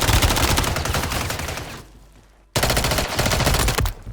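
Rapid automatic gunfire rattles in two loud, close bursts in the video game Resurge, separated by a brief fading gap before the second volley starts abruptly.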